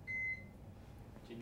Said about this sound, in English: And that is our alarm, which we have to press a button for.